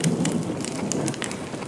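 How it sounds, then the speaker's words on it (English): Steady rain falling in the Honkai: Star Rail video game, a continuous soft patter with scattered drop hits, heard alone at moderate level without speech. "You're lucky to have found shelter from the rain"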